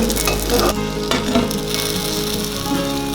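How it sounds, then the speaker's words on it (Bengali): Bengali-style ash gourd fritters fry in hot oil over a lowered gas flame, giving a loud, steady sizzle with occasional stirring and clinks of utensils and no speech. "বাদ বাকি চাল কুমড়োগুলোকেও আমি এভাবে ভেজে নেব।"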